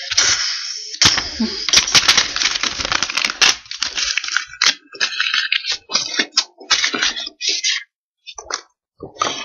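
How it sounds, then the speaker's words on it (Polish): Two small toy cars knocked together in a play crash, heard as a dense burst of sharp plastic clacks and rattling that breaks into scattered clicks and scrapes, close and fairly loud with no talk. "A to było rozbicie dwóch samochodów"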